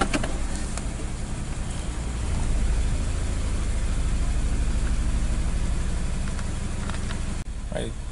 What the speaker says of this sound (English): Again, a serious rough idle.